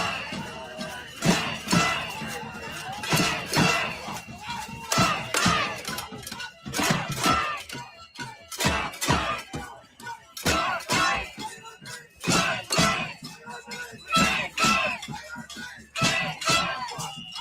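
Protesters at an anti-ICE protest in Minnesota at night: a loud crowd shouting in repeated rhythmic bursts, chants rising and falling, with occasional clinks and thuds among the voices.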